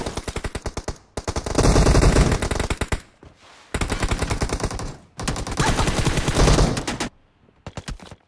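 Gunfire in the mobile shooter BGMI: long bursts of rapid automatic fire, loud and close, broken by short gaps and a brief silence near the end.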